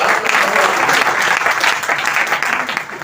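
Audience clapping at a kavi sammelan poetry gathering in a Jaunpur hotel hall, a loud, close, continuous burst of many hands with some voices mixed in.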